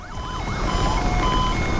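A police siren in the racing video game Need For Speed Unbound wails loud and close, its pitch sweeping up and down over a steady engine roar.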